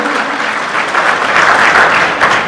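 A hall audience claps loudly and continuously to welcome an MLA at a gathering in Uttar Pradesh, a dense, sustained applause with no voices rising above it.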